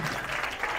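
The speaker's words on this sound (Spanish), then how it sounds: "¡Aplausos para ustedes!" Brief, faint crowd applause from an audience at a children's religious show, a steady wash of many hands clapping at a distance.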